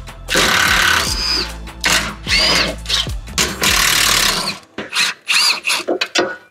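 A power tool backs out 14 mm fasteners from a sway bar bushing on a Honda Element, heard as loud, close whirring bursts with rising and falling pitch and short pauses, then quicker choppy spurts.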